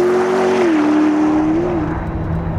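A 903-horsepower McLaren P1 engine revs loudly and continuously, its pitch dipping and rising again with a rough, throaty roar.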